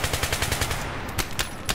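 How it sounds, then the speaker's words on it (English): Rapid automatic fire from an L85A2 assault rifle in Battlefield 3: a steady, continuous burst of sharp, close shots in even succession with no pause. "It shoots a decent amount of bullets per minute, I think about 650."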